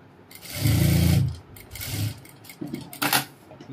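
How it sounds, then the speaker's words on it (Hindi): Sewing machine stitching a seam on a cap dress in a tailoring workroom, a short close mechanical run of rapid needle strokes followed by a few lighter clicks and handling noises. "अब इसमें हम सीधी साइड से लब की सिलाई मारेंगे।"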